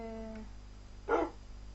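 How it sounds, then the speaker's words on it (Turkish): A single short dog bark from the Minecraft video game, heard faintly over a steady background hum, preceded by a brief tonal blip. "Aa köpek. Köpek buldum."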